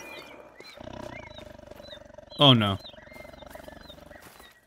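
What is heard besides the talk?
tiger growling in theHunter: Call of the Wild video game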